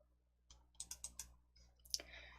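A computer mouse is double-clicked to open a file on a computer, producing a few quick sharp clicks in pairs, close and quiet against a near-silent background.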